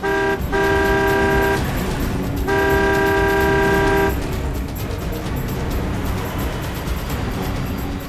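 Car engine roaring during a high-speed chase while overtaking another vehicle, with two long horn blasts early on over loud continuous road and engine noise.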